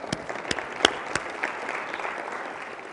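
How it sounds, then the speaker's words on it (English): An audience at an inspirational talk in Denver applauds steadily, a dense wash of clapping with a few sharper individual claps standing out near the start. "Give Jeffrey a round of applause real quick."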